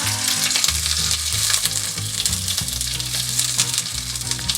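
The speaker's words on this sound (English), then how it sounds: "I'm going to start that pan over again because I don't want burnt garlic." Garlic sizzles loudly in an overheated frying pan, a dense, close crackling fry that runs without a break under low hum.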